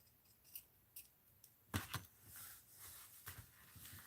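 Scissors cutting a cotton hanky, several crisp snips spaced irregularly and close to the microphone against a quiet background.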